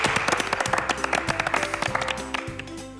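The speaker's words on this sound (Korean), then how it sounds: "박수 한번 치고 시작하시죠" Short burst of applause during a BTS anniversary FESTA celebration, dense clapping alongside a steady music bed, moderately loud and fading slightly toward the end.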